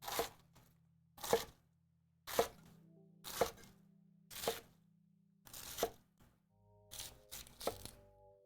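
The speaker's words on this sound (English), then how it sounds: "start chopping" A knife chops through a head of lettuce on a cutting board in eight crisp, crunchy strokes at a steady pace of roughly one per second, the last few coming quicker, close and clear with no talking.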